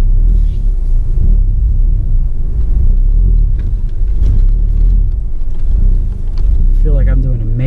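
A Volkswagen MK7 GTI pulling up into a snowy driveway, low steady engine rumble heard from inside the car, with a voice speaking over it.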